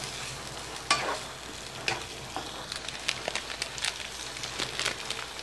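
Chicken liver and gizzard sautéing in a pan for adobo, a low steady sizzle broken by several sharp scraping stir strokes, close and moderately loud with no talking.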